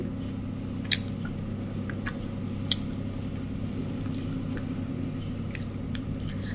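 Someone chewing and eating eggs close up, with soft wet squishing bites and a few faint crisp clicks over a steady low background hum, and no talking.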